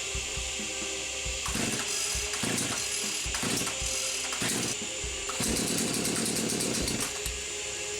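A Husqvarna or Jonsered chainsaw being pull-started during a no-start repair: loud, close, rough rattling bursts as the cord is yanked and the engine sputters briefly without settling into a steady run.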